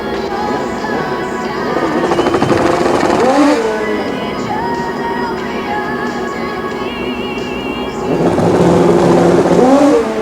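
Kawasaki and Suzuki drag racing motorcycles at the 1993 Prostar Summernationals sportsman finals, engines droning and revving loudly at the start line, rising in pitch at moments, with a crowd and announcer-style voices mixed in.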